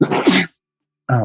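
A single sharp sneeze bursts close to a microphone during a live talk show, followed after a brief silence by a short spoken word.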